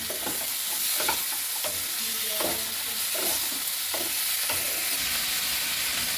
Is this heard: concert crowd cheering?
no